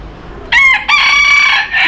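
A rooster crows loudly and close by in two bursts, the second longer call trailing off before a brief restart, heard at a bus stop in Sapa, Vietnam.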